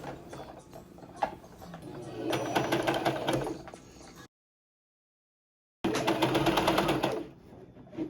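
A sewing machine stitching horsehair braid onto a gown hem with a quarter-inch seam allowance, running in close, rapid mechanical bursts, stopping for a silent gap and then starting again.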